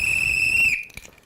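At a street march, a single shrill whistle blast holds steady for under a second, then cuts off abruptly.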